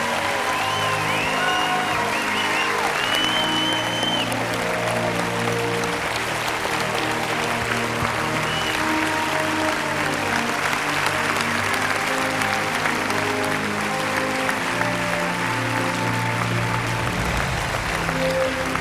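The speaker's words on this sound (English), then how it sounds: "give them the round of applause that they deserve" An audience at the 2010 Miss Oklahoma pageant gives a long, steady round of applause, dense and loud for nearly twenty seconds, with a faint tonal backing beneath the clapping.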